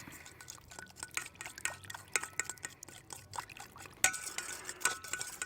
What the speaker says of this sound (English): Just stir that up.